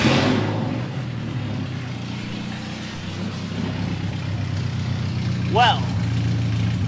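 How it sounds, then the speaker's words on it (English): Toyota Corolla engine revving in a garage with the car up on a jack, its drive shaft spinning, a steady engine drone throughout with a brief louder rise near the end, and someone speaking briefly at the start. "that is one very spinny drive shaft, and this tire is very not spinny"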